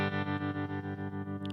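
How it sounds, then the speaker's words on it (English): Clean electric guitar through a Twin Reverb amp with tremolo and reverb, a sustained chord pulsing in a steady rhythmic throb, with a couple of brief higher notes at the end. "I love having that reverb or that tremolo on there."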